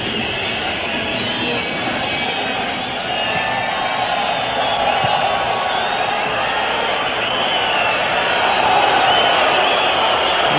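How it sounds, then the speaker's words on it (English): A packed stadium crowd at the 1986 World Cup match between Morocco and Germany, a loud, sustained roar of thousands of voices with whistles and shouts that swell slightly over time. "And this is the crowd's understandable reaction"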